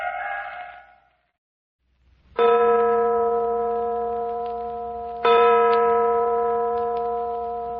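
A faint tone fades out, then after a pause a large church bell strikes twice, each ring loud and long, slowly decaying with a bright metallic hum.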